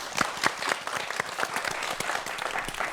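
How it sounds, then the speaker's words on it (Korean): A lecture audience applauds a physics professor's talk on social media, dense clapping that fills the whole stretch at an even, steady level. "박수 부탁드립니다"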